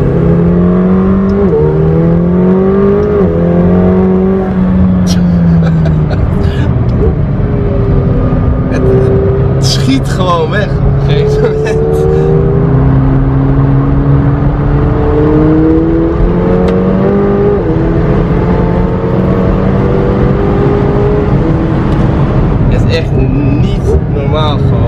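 A McLaren 720S sports car accelerates hard around a race circuit, its engine note climbing and falling through gear changes in a loud, continuous drone heard from inside the cabin while people talk over it.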